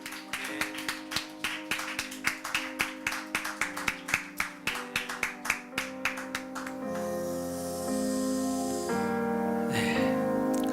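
A church congregation claps after a service, with rhythmic, evenly spaced hand claps and music playing under them, then fading into a sustained chordal music wash.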